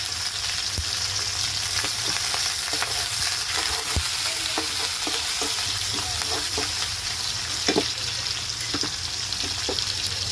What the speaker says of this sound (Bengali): এখন আমি চিংড়ি মাছটা দিয়ে দিলাম, পুরো চিংড়ি মাছ দিয়ে লাউ দিয়ে রান্না হবে